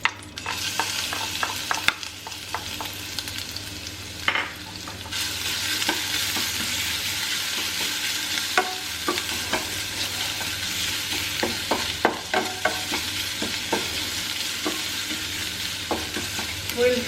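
Garlic frying in a pan, heard as continuous close-up sizzling with frequent sharp scrapes and taps from stirring, steady throughout and free of speech.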